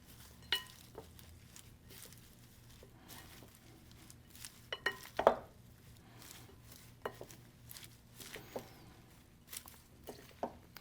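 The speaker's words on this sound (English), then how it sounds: "Go ahead and give this a mix." Chickpea tuna salad with dressing is stirred in a bowl: soft, irregular scraping and clinks of a utensil against the dish, a few louder knocks among quiet moist patter, close and without talking.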